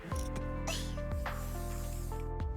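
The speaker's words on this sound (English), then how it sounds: "She sprays the air." In a video game story scene, a character sprays a can into the air, with short hissing spray bursts between low rhythmic game music and effects, moderately loud.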